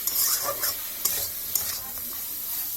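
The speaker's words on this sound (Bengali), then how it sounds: "এবার ভালো করে মশলাটা কষে নেব ভালো করে নেড়ে নেব মশলাটা" Spices sizzle and fry in a hot pan as a spoon stirs the masala with coriander powder, cumin, ginger and garlic, a steady close crackle broken by a few sharp scrapes, with no voices.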